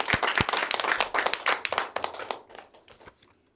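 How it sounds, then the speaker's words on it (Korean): Applause from a Korean prayer gathering begins as sharp, distinct claps that merge into a dense burst, then gradually thins and fades away over the final seconds. "우리 참 어머님께 큰 감사의 박수, 영광의 박수를 올려주시기 바랍니다."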